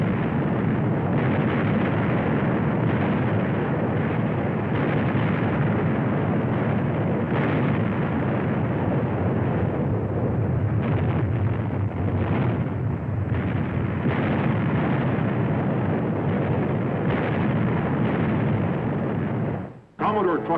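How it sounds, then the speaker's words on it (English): Naval cannon broadsides from sailing warships roar as a continuous barrage of deep, rumbling blasts. The firing overlaps into a loud, dense roll that lasts throughout and cuts off sharply near the end. "For 5 hours, she exchanged broadsides with the heavier gun Vengeance."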